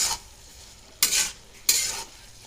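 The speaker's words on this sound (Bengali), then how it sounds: "এখন একটা নাড়াচাড়া করে ঢেকে দেবো" A pot of bottle gourd curry is stirred with a utensil: three short, scraping strokes over a soft background sizzle, close up and with no voices.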